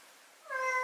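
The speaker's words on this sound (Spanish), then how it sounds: "Por aquí tengo" A single short cat meow rises in the second half after a faint quiet hiss, close and clear with a bright tonal wail, heard alone with no talking.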